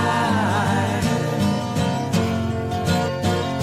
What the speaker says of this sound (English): the way this song kicks off, the drum riff, the guitar riff, they're clapping